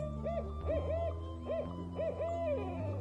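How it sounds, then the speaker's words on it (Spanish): An owl hoots repeatedly in a city setting, short two-note calls spaced roughly half a second apart, clear but moderately distant against a steady low background hum. "Al fondo se escucha un búho."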